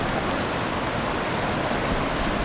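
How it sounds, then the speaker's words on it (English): Water of a mountain creek rushes steadily over rocks below a bridge in sub-alpine terrain, a dense, constant and fairly loud flow with no voices. "That beautiful mountain creek."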